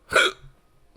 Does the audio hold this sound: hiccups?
yes